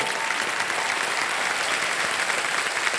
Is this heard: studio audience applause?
yes